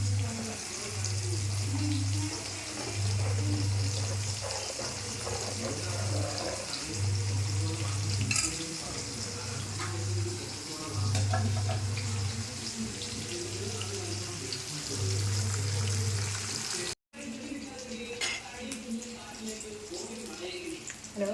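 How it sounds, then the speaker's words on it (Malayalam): Fish frying in hot oil, a steady crackling sizzle close by under a low pulsing hum and a voice speaking, with a short dropout near the end. "ഇവിടെ മീൻ വറുക്കാനുള്ള എണ്ണ ചൂടായി."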